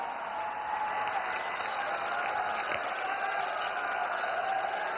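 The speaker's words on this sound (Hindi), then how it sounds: "आइए तालियों की बौछार के साथ उनके विशेष संबोधन के लिए" Steady, dense audience applause fills the hall, welcoming Prime Minister Narendra Modi at a live event in Gujarat where he inaugurates and lays foundation stones for projects; a continuous even roar of clapping, no speech over it.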